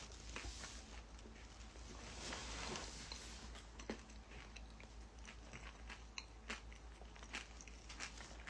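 A person biting into and chewing food up close: soft, quiet crunches and clicks come in an irregular run over a faint background, with no clear talk.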